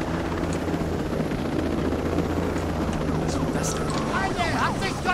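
In Ghost Recon Breakpoint, a helicopter's rotor drone runs continuously alongside a combat drone, a loud, steady, thrumming roar with faint higher chirps near the end and no clear speech over it.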